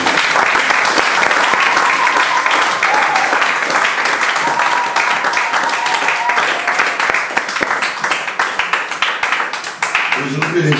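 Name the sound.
church congregation applauding to acclaim the Lord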